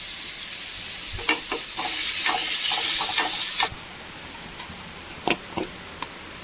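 Onion and papadam fry in a pan with a broad sizzle that swells loud for a couple of seconds, then drops back to a low hiss broken by sharp spoon-against-pan clicks and scrapes.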